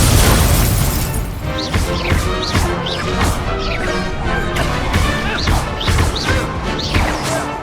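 A spell duel in the Hogwarts Legacy video game brings loud, dense spell blasts, crashes and explosive bursts that follow one another without a break, with a thick wash of game effects throughout.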